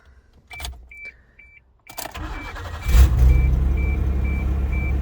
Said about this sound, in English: So the truck starts.